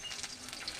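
Fish pieces frying in hot oil after being turned: a brief, close, steady sizzle with faint crackles.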